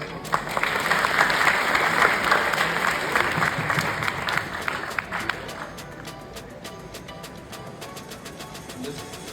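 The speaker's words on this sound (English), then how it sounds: "Huge round of applause." An audience at a university leadership summit breaks into loud applause, dense clapping that peaks early then thins into scattered individual claps, with a little crowd murmur.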